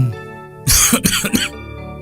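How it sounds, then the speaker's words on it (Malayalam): A sudden burst of harsh coughing, three or four rough hacks in quick succession, close to the listener, then quiet. "ചുമ ഉണ്ട്."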